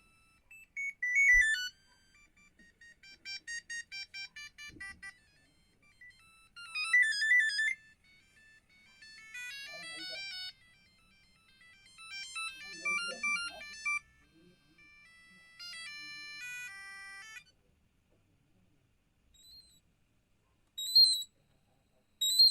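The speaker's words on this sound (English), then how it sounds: "So here are some ringtones." Several ringtones play from a Siemens A50 mobile phone in turn, short bright electronic melodies and beeping tone sequences separated by brief pauses, clean and fairly quiet, with a few faint bumps between them.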